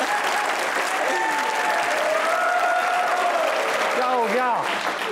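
A studio audience at a Pakistani comedy talk show claps in dense, sustained applause. A few raised voices call out over the clapping near the end.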